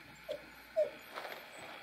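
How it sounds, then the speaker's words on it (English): A dog whimpers softly in the background of an indoor room, with two or three brief, faint whines and no talk. "That's my dog in the background"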